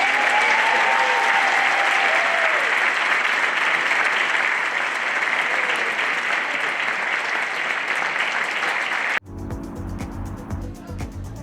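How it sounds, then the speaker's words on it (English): A crowd at a congressman's public accountability event gives a long round of applause, dense clapping that stays strong for several seconds before breaking off abruptly into quieter room sound. "Let's have one more round of applause."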